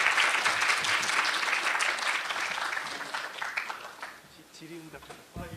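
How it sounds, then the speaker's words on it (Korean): An audience applauds a professor after a special lecture at a university entrance ceremony, strong clapping that gradually thins and fades, with a voice starting to speak near the end. "다시 한번 이렇게 좋은 발표해 주신 현택한 교수님께 박수로 다시 한번 뜨거운 마음 전하겠습니다"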